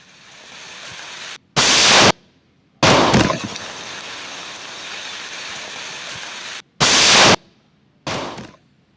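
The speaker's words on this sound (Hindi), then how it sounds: "हालांकि स्क्रीन पर उतना समझ में नहीं आता है कि कितनी तीव्रता का ये विस्फोट है, लेकिन है बहुत ज्यादा।" Controlled detonation of defused IED explosives by police and security forces in Chhattisgarh: loud, sharp blasts burst out alone, one at a time, separated by brief silences, with a long roaring stretch in the middle.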